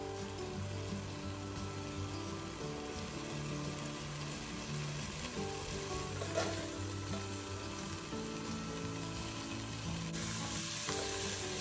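Chopped onions sizzling in rendered bone broth fat in a pan, a steady close crackling hiss with faint stirring scrapes throughout.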